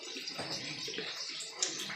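Olive oil splashing into a pan during home cooking for honey garlic chicken, a continuous soft liquid pour heard up close for about two seconds with no talk over it.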